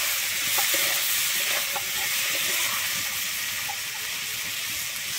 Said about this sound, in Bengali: আমি লবণটা দিয়ে এবারে ভালোভাবে মিশিয়ে নিচ্ছি।